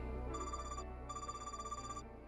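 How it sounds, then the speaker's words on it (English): A ringtone plays in a video game: a bright electronic ring sounds twice over a steady low game hum, the second burst longer than the first, fairly faint. "I don't recognize this ringtone,"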